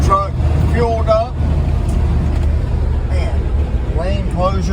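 A ramp truck's engine drones steadily while driving down the road, a loud low rumble throughout with someone talking over it.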